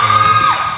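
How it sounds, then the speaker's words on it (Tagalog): Basketball supporters of the Aussie Boys shouting and cheering during free throws, a loud sustained whoop from a crowd that falls away at the end. "Matindi ang sigaw ng mga supporter ng Aussie Boys"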